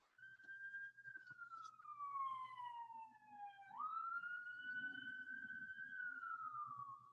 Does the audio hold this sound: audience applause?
no